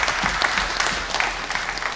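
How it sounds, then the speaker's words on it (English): Applause from an audience at a school debate final honouring finalists Mengo SS and Mbara High School, a dense, steady wash of many hands clapping at fairly close range for about two seconds, with no talking. "Please give them a hand clap."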